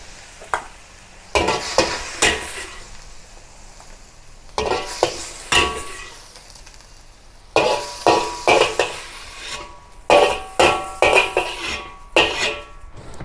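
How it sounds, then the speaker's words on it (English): Chinese cabbage stir-fried in a wok, with bursts of sizzling and repeated metallic clanks and scrapes of the spatula tossing the leaves, loud and close. "continue to stir fry until crisp tender"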